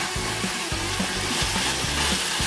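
Steady sizzling and crackling of onions frying in a hot pan, with intermittent stirring scrapes, moderately close and without voices.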